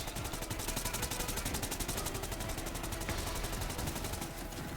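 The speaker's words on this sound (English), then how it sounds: "you can just run around and shoot with the AKs on" AK rifles firing in Borderlands 3: dense, continuous automatic fire, loud and close, with steady rapid shots throughout and a slight drop near the end.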